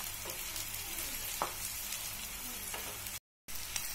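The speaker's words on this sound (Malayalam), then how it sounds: "നല്ലപോലെ ഇളക്കി കൊടുക്കാം." Chicken and a large heap of dried chillies stirred in a hot pan, a continuous close sizzle with occasional spoon scrapes and a brief dropout near the end.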